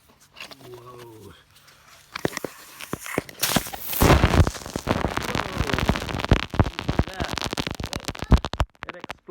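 A homemade baking soda and vinegar toy rocket bursts with a sudden loud whoosh and crackling spray that continues for several seconds, with excited voices talking before and after.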